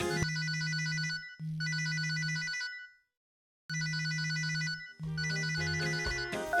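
A telephone rings in repeated electronic bursts, two long rings, a pause, then more rings, loud and clear with no talk over it.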